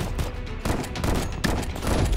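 Shotgun blasts in the shooter game Combat Master, loud close booms repeated in quick succession with dense gunfire sounds between them; no talking.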